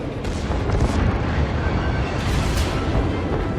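Secondary guns on the warship Nassau fire repeatedly at a close-range target in a naval combat game, a dense, continuous barrage of booming shots layered over rumbling low-end noise, loud throughout.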